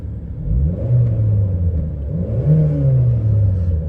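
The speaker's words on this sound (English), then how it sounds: "Let's give it a rev." A Renault Scenic 1.6 automatic's engine is revved while parked, its low rumble rising and falling in two smooth swells, close and fairly loud with no talking.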